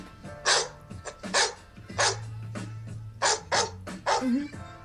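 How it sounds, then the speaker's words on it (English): A dog barks repeatedly in short, sharp bursts at an uneven rhythm, fairly close, with a low hum underneath. "barking dog to angry cat"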